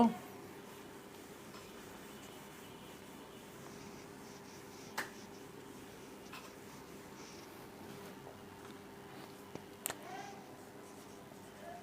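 Chalk or marker taps and scrapes faintly on a board during a class, with a few sharp ticks over a steady room hum.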